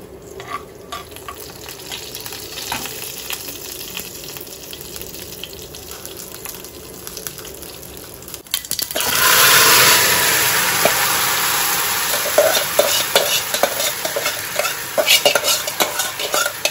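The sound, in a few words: tempering fenugreek, mustard and cumin, then frying potatoes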